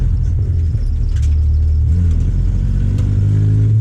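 Drift car engine at low revs, a heavy continuous rumble close by, uneven and stumbling before it climbs slightly near the end, heard alone.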